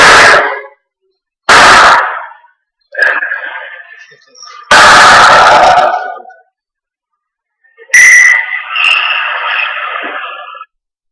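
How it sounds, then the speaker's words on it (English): On a playback recording, bursts of loud banging like doors slamming alternate with gaps of silence. A shrill, tonal scream-like sound rises in the last stretch. "It sounds like doors being banged and there's a scream amongst that sound as well"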